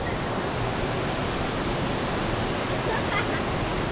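Nunobiki Falls at Akame 48 Waterfalls, heard from just above the drop, a loud, steady broadband roar of rushing water that fills the whole stretch without pause.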